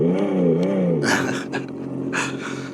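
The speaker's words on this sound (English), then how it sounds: "So you can press this button and you get a fake combustion motor sound." Simulated combustion-engine rumble played from the speaker of a HillMiles MilePop 1 3000W electric dirt bike, a close, continuous synthetic motor drone with rising and falling pitch, with a brief burst of louder revving partway through.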